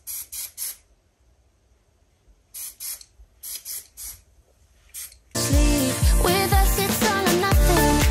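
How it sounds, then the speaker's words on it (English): OGX Smoothing Shea Sleek hairspray is sprayed in several short hissing bursts, grouped in quick pairs and triples with pauses between, before loud music takes over. "I'm going to spray some hairspray on it."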